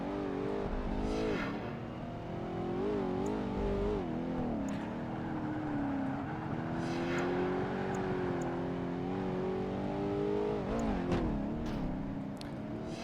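A Ford GT40 race car engine in Project Gotham Racing 2 drones steadily at high revs, its pitch rising and falling through shifts and corners for the whole stretch.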